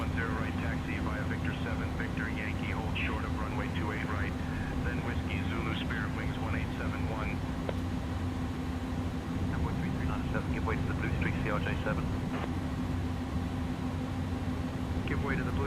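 An Inibuilds Airbus A300 jet taxis in Microsoft Flight Simulator 2024, a steady, droning engine hum and rumble that runs throughout under ongoing radio talk.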